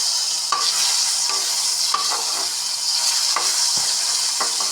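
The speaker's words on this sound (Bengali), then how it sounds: "এখন ভালোভাবে ভেজে নিচ্ছি আমি বেগুনগুলি" Eggplant pieces fry in a pan with a bright, steady hiss of hot oil, broken every second or so by the clink and scrape of a spatula stirring, close and fairly loud.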